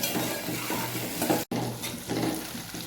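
Onions and green chillies frying in a pan of oil after cumin and mustard seeds, a close, continuous hiss and crackle with scraping stirs of a spoon, briefly cut to silence midway before the sizzle resumes.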